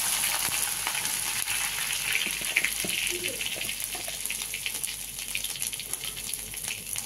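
Ginger sizzles in hot oil in a pan, a close, steady hiss with faint stirring clatter, unbroken for the whole stretch.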